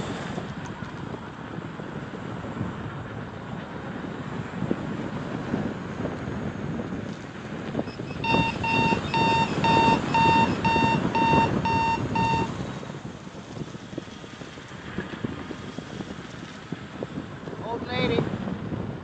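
An MSP 2500W power inverter emits a steady series of evenly spaced electronic alarm beeps for several seconds over a background of wind-like hiss, with a voice speaking nearby.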